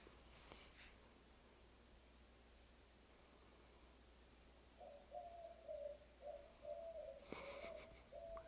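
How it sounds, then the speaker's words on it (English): Doves coo outside in a repeated soft, hollow rhythm, faint and distant over quiet background hiss, starting about halfway through. "Good morning to you doves."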